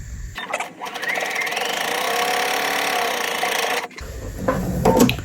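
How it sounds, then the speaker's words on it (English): A sewing machine runs in one steady, continuous burst for several seconds while double-stitching the skirt seams of a polymer clay head pincushion doll, then stops. Faint handling noise follows. "you're going to double stitch all your seams because you do not want them ripping out when you're stuffing the doll"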